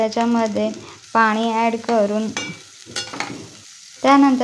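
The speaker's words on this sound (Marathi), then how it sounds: "अंडा कढी बनवण्यासाठी मी कांदा आणि टोमॅटोची फोडणी दिली." Chopped onion and tomato tempering for egg curry sizzles in a pan while being stirred. A steady frying hiss runs beneath a voice that talks over most of it.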